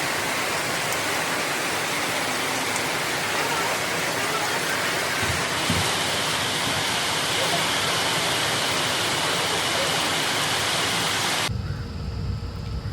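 A dense, unbroken roar of heavy rain pours down at Beemapally, loud and close, with a few low thumps beneath and a sudden change near the end.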